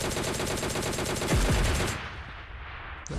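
Rapid automatic gunfire from a video game match rattles loudly in quick bursts for about two seconds, then cuts off, leaving a quieter game background with a short burst at the end.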